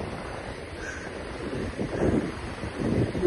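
Sea waves and wind at the shore at Suruchi Baug, Vasai: steady wind buffeting the microphone over a low rolling surge of surf that swells toward the end.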